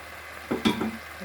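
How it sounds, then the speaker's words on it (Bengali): Braised mutton being stir-fried in a pan: a brief burst of scraping and stirring over a soft sizzle, close and short, with no voices. "আর 2 মিনিট মতন কষালে মাংসটা কষে যাবে"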